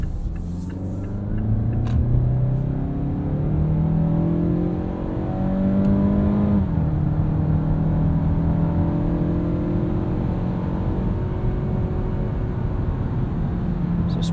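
Inside a 2017 Mazda CX-5 Grand Touring FWD in sport mode, the engine holds its revs through corners as a steady, loud cabin drone that climbs in pitch, then drops and settles, over continuous road rumble.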